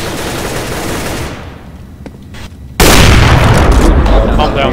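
An incendiary grenade lands in a first-person shooter and loud game gunfire and fire burst in. A sustained roar starts abruptly after a quieter stretch, with a voice heard earlier.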